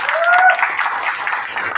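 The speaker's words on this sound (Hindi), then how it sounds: "जोरदार ताली बजा दीजिए।" A hall audience at a Safe Shop training event in Shahdol bursts into continuous applause, dense clapping that swells briefly and then holds steady, with a voice heard early over it.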